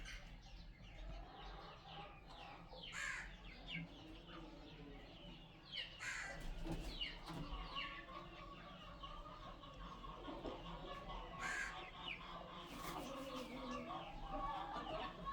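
Roosters cluck and crow in a yard, with repeated short calls and a couple of sharper crows over a constant low background hum, fairly close.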